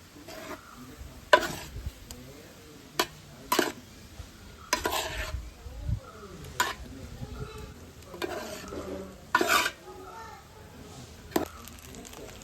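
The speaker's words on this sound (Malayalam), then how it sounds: "ഇനി ആ റൈസും നമ്മുടെ വെജിറ്റബിൾസ് എല്ലാം കൂടി നല്ലപോലെ ഒന്ന് മിക്സ് ചെയ്തെടുക്കണം." Rice and vegetables for veg fried rice are stirred in a pan, with a spatula clanking against the metal at irregular intervals over a soft sizzle, while a person talks.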